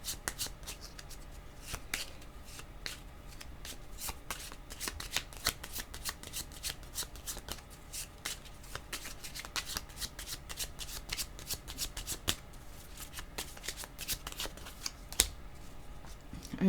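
Playing cards shuffled repeatedly by hand, a soft continuous riffle of crisp flicks and snaps at close range, faint and steady throughout with no talk.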